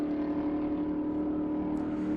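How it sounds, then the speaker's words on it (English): A vintage race car with a 427 big block Chevy engine built to Group 6 rules holds a steady, deep engine drone at a racing circuit, continuous and fairly loud throughout the short stretch, with no talking. "That's a 427 big block Chevy engine in that car"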